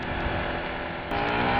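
Yamaha MT-125 motorcycle accelerating, its engine note a steady, loud drone that rises in pitch and shifts up a step near the end, heard close with no talking.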